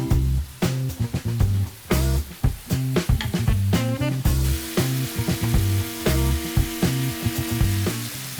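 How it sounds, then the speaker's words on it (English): Chicken tikka mix hisses and sizzles in hot oil in a pan over medium-high heat, a loud steady frying noise that runs under music with a strong beat and no talk. "You hear that sizzle?"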